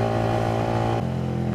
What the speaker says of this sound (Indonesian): Dan benar, knalpotnya ini bacot banget suaranya.